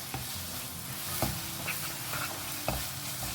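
Chicken sausage chilli stirred in a hot pan, a low continuous sizzle punctuated by several sharp spatula scrapes and knocks against the pan, with no voices.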